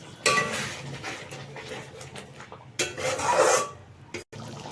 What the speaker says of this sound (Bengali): দইটাকে ভালোভাবে মিশিয়ে দিই